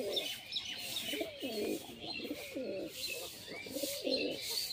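A female pigeon of fancy show quality coos repeatedly in a close, steady rolling rhythm of throaty phrases, with faint chirps and light background noise.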